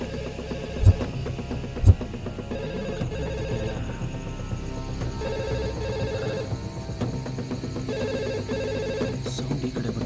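A telephone rings somewhere nearby in a tense horror-movie scene, its ring coming in repeated bursts over a steady droning background, with two sharp low thumps early on.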